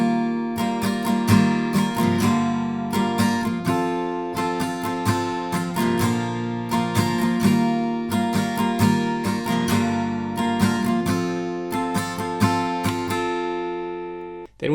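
An acoustic guitar strums the simple verse and chorus chords of a song in a steady rhythmic pattern, full and close, with a loud knock right at the end and no talking.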